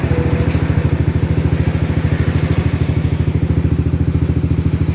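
A Yamaha NMAX 155 scooter with a check-engine fault runs close by at a steady idle, its engine giving off a loud, even, rapid pulsing throb with a faint mechanical clatter.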